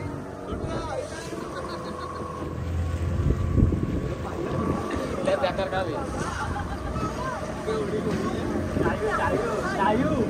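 A boat engine at full power drones steadily beneath wind and sea wave noise off the Konkan coast while several people talk over it.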